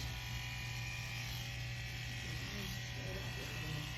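An electric hair clipper runs during a zero blend haircut, a steady, close, unbroken mechanical buzz that holds at the same level throughout.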